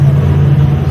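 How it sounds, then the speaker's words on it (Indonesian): A racing car engine holds a steady, loud, low droning hum, constant in pitch with no revving, over a brief moment. "Mobil balap lagi."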